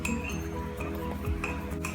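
A spoon quickly stirring mug cake batter with cocoa powder and cinnamon inside a mug, light clinks and scrapes against the ceramic over a low steady background hum.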